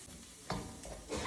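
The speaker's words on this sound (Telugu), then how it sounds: "క్యారెట్, క్యాప్సికమ్ ఫ్రై అయ్యాయండి." Carrots and capsicum frying in a pan for pav bhaji give a soft, close sizzle, with a couple of brief stirring scrapes over the steady hiss.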